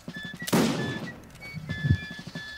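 Musket volley firing in the video game Mount and Blade Napoleonic Wars, one loud ragged fusillade followed by a second duller burst of shots, with faint tonal game sounds in the background.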